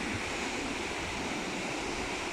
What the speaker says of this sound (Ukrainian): Ближче до хвиль.